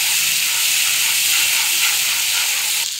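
Spices sizzling in hot ghee in a pan while coriander and cumin powder are stirred in, a steady close hiss and frying crackle running unbroken throughout with no talk.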